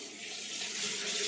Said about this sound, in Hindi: टोटी देखिए किचन में खुला है